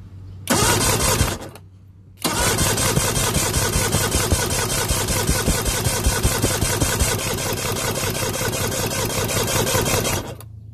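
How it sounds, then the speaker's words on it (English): A Mercury 150 hp outboard engine cranks over on the starter during a compression test, giving a loud, steady rhythmic churning that runs for about half a second, stops briefly, then resumes for roughly eight seconds before cutting off. "So now we're gonna crank the engine and test."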